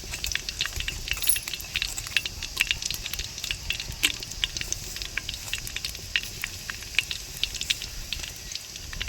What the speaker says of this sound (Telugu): ఆయిల్ అనేది వేడెక్కింది ఫ్రెండ్స్. ఇప్పుడు మసాలా దినుసులు ఇందులో యాడ్ చేసుకుందాం.